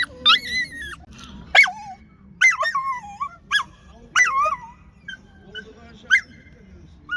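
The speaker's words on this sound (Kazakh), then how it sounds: "Достар, комментарияға жаза кетіңіздер, шына қандай тұқымды ит екенін білейік." A dog for sale at a livestock and animal market gives a series of high, wavering whimpers and yelps, close and loud in short bursts separated by brief pauses.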